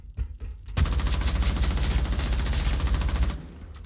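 Loud, continuous rapid gunfire in the survival shooter video game Dysterra, a dense automatic burst lasting several seconds after a few short shots, then cutting off.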